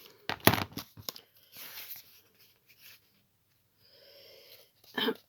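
Paper is torn in short bursts from a sheet of corrugated cardboard, small ripping and scraping sounds close by with quiet pauses between pulls.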